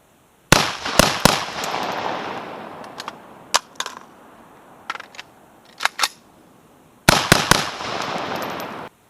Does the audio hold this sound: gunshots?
yes